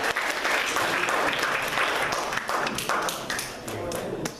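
An audience breaks into dense, sustained applause, many hands clapping together in a crowded room, loud and continuous before tapering slightly at the end.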